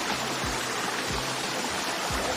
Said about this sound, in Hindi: ये आ गए हम वाटरफॉल पे, पूरा ऊपर से आ रहा